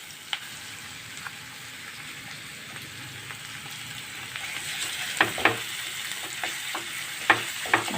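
Ginger garlic paste and cabbage sauté in a pan, a soft continuous sizzle that grows busier toward the end with crackling pops and spoon scrapes.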